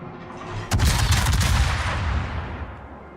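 Heavy naval guns fire from a warship in World of Warships, one deep booming salvo that hits hard and then rolls off into a long fading rumble with no talk.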